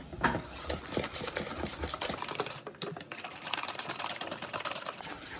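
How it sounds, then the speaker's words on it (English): Brown sugar and butter are beaten with a hand whisk for a buttermilk cake, a rapid, steady clatter of wire against the bowl that runs continuously and close up. "You're gonna beat it with your hand whisk until smooth."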